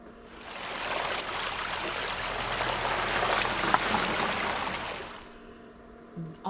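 Steady broadband rush of flowing water, like a nearby creek, continuous and moderately loud for several seconds before fading out.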